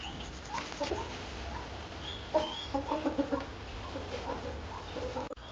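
Chickens cluck in a farmyard where turkeys, chicks and pigeons are also kept, giving a few scattered clucks over steady outdoor background noise, with a sharp knock near the end.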